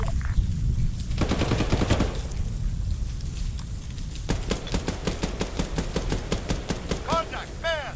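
Machine guns fire in the Arma 3 video game, in repeated rapid bursts of loud, sharp reports. Short pauses separate the bursts, and voices come in over the firing.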